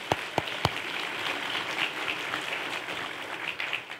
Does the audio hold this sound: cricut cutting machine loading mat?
no